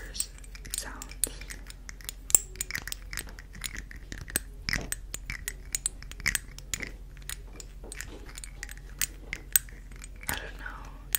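Fingertips or nails tapping on small skincare serum dropper bottles, quick sharp clicks and taps in irregular bursts, close and quiet under soft whispering.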